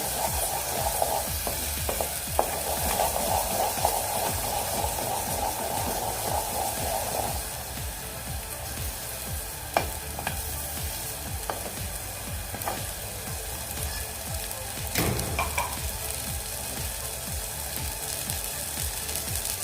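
Katachi aamati, a Maharashtrian dal curry, being stirred and mixed in a pan with spices and coriander powder, giving a steady low sizzle with scraping spoon strokes and a few sharp clicks against the metal, with no talking.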